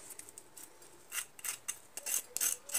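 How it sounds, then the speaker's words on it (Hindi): Crisp crunching and crackling bursts, irregular and close, as crispy fried fenugreek (methi) cutlets are pressed and broken apart, growing louder toward the end. "मैं आपको इसकी आवाज़ सुनाती हूँ ये देखिए कितने क्रिस्प बने हैं"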